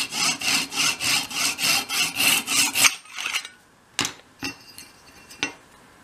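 A small hand saw cuts slowly through wood for a 1/12 scale doll's house desk, its steady rhythmic strokes rasping close by before stopping, followed by a few light taps and knocks.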